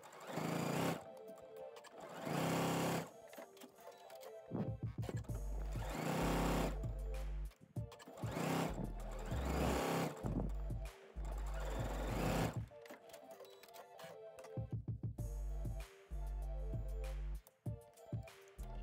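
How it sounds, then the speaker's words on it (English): A sewing machine stitches pocket pieces onto pajama shorts in repeated bursts of rapid mechanical whirring, each run lasting a second or two with short pauses between, close and clear with no talk. "Next, I sew all 4 pocket pieces in place using a 1/4 inch seam allowance"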